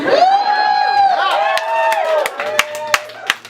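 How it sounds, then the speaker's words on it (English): Audience applause with cheering and whoops at a queer literary salon reading, loud and lively, with crowd voices mixed in and a few sharp claps standing out as it tapers off. "I can tell from the applause"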